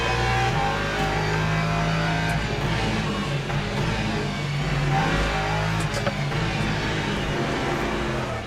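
A race car lapping Paul Ricard in the sim racing game Le Mans Ultimate, its engine droning steadily with shifting pitch as it accelerates and shifts, heard alone at moderate level.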